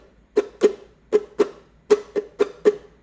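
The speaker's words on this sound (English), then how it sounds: "Use this hand to just make the strings quiet or dead" Ukulele strummed with the strings muted, eight short percussive chucks in a steady rhythm, dry and fairly quiet, with no talking.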